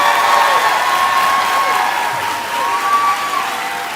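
Sustained audience applause at a 2023 high school graduation ceremony, broad and steady from a large crowd in a hall, with faint voices and cheering mixed into the clapping.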